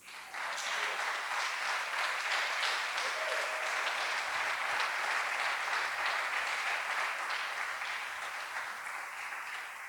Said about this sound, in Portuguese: Você pode aplaudir a ele por isso?